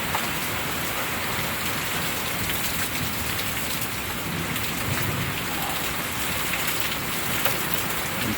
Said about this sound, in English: I can hear the hail going kink, kink, kink on everything.